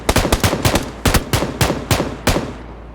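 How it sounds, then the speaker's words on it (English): An SAW light machine gun in PUBG fires loud, close bursts, around ten sharp shots in rapid uneven clusters that then space out, ending with a lingering tail. "to just put out 11 rounds and nail a guy like that at that distance"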